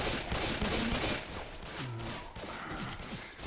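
Rapid bursts of gunfire rattle in the Left 4 Dead 2 zombie shooter, dense overlapping shots near and loud throughout.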